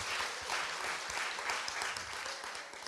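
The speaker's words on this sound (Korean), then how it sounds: "박수 한번 주세요." A studio audience at a Korean talk show bursts into continuous clapping, a dense, even patter of hands that stays steady and moderately faint throughout.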